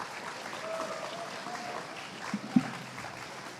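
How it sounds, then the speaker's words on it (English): A short burst of applause from a crowd welcoming costume groups at a presentation, steady clapping with a couple of louder claps near the end, heard at moderate distance. "Give them a warm welcome, a round of applause"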